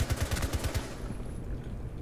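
Rapid bursts of automatic gunfire in Rainbow Six Siege, a quick string of sharp shots that cuts off after under a second, leaving a low rumbling tail and background noise.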